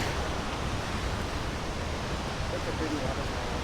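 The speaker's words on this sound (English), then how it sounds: "It is a very pretty waterfall." Steady broadband rush of Comet Falls on the Van Trump Trail, a continuous roar of falling water filling the whole stretch at even loudness with no breaks.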